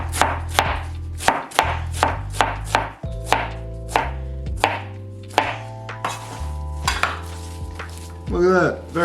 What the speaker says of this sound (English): And then you can turn your cabbage while you do it if you're well versed enough in cutting.